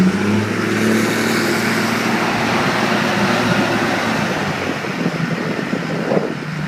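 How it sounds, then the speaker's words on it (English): Cummins diesel second-generation pickup truck driving through snow, a loud steady engine roar and road rush with wind buffeting on the microphone, gradually easing slightly toward the end. "This truck runs great. This truck sounds great."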